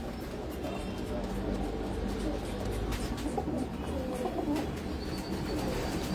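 Pigeons in a home loft coo softly amid a steady, dense bed of bird sounds and rustling, with faint voices mixed in.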